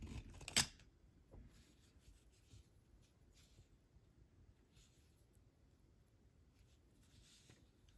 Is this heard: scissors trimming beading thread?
yes